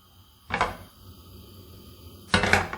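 Tortillas tossed onto a very hot, dry frying pan over high heat make two brief, close slapping clatters, well apart, against a quiet kitchen background.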